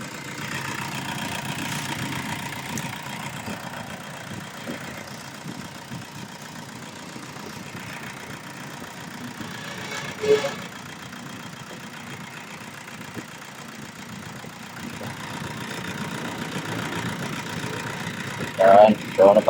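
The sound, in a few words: car engine idling with negative battery terminal removed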